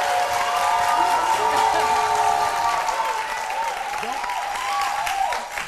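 An audience on a TV studio talk show gives a sustained round of applause, a dense, even wash of clapping under tonal music or voices throughout.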